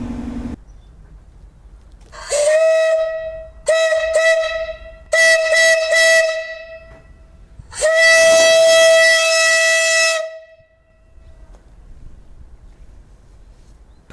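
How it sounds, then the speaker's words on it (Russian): A loud steam whistle on a steam-powered motorcycle blows in several piercing blasts: short bursts first, then one long sustained shriek before it cuts off. "Но теперь мы испытаем большой свисток."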